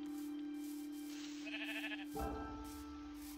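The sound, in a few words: sheep bleating in Minecraft video game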